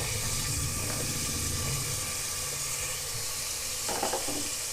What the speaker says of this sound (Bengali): সব সবজি দিয়ে এবার আমি একটু ভেজে নেব।